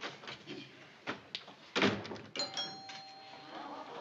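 A door shuts with a solid thunk partway through, in an old sitcom scene set at a house entrance, with a doorbell-like tone ringing just after amid faint room noise.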